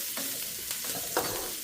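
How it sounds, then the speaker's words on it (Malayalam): Chilli powder fries in oil while being stirred for a chayote thoran, a steady close sizzle with a few soft scraping strokes of the spoon and no talking. "ഇത് തീരെ മഞ്ഞ നിറത്തിന് പകരം ഞാനൊരു സ്വല്പം മുളക് പൊടി ഒന്ന് ചേർത്ത് ഒന്ന് ഇളക്കും."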